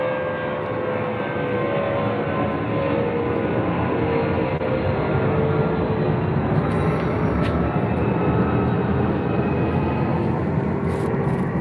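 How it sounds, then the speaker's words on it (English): A fixed-wing airplane passing low near an airport, a loud, steady jet roar that holds throughout without pause, with no talk over it. "Got another plane."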